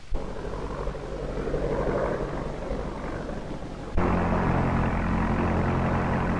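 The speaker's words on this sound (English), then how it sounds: "Planes dropping down on us." Airplane engines drone steadily overhead in a 1933 aerial serial. The sound is a continuous loud roar with a propeller hum, and it swells suddenly about two-thirds of the way through. No one speaks.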